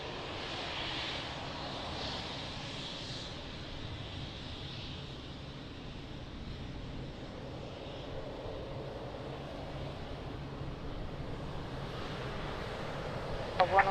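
An airplane engine rumbles steadily at Lisbon Airport's runway, a distant, low broadband roar holding evenly throughout with faint wind noise.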